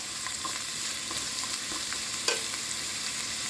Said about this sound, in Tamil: எல்லாம் ஆயிலில் நல்லா வதங்கி வரட்டும். இந்த முள்ளங்கி ஆயிலே நல்லா வெந்து வரட்டும்.